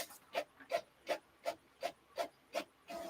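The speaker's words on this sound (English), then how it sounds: "Why is my printer printing something?" A home printer prints in the background, giving a steady series of eight evenly spaced mechanical swishes and rasps, like a print head sweeping back and forth, fairly faint with no talk.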